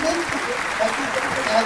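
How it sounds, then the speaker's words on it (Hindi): An audience at an award ceremony for top ANM nursing students gives hearty applause, a dense, continuous wash of clapping with voices and other sounds mixed in. "तो मैं चाहता हूँ कि एक बार आप सभी जोरदार तालियों से उन सभी का थोड़ा"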